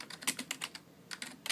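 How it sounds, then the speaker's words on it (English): Keyboard keys typed in quick, uneven bursts at close range, soft and crisp with short pauses between clusters of keystrokes; no one speaks. "So let me type that up for you."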